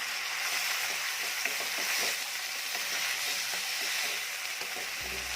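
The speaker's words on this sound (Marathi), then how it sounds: "यामध्ये थोडीशी डाळ आपण परतून घेणार आहोत. तेलामध्ये डाळ जरा परतली की चवीला छान लागते." Soaked toor dal frying in hot oil with onion for a Marathi-style safflower-leaf vegetable dish, a steady close sizzle and crackle that continues alone with no talk.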